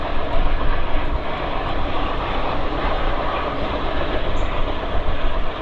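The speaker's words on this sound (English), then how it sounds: "And that train is getting ready to cross the Des Plaines River." Train rumbling toward the Des Plaines River crossing near Brookfield, Illinois, without stopping: a loud, steady, broad roar of wheels and engine that holds evenly throughout, with no voices.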